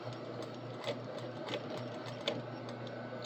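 A sewing machine running steadily along a long seam, a fast even mechanical stitching whir with faint periodic clicks, close and continuous with no talking.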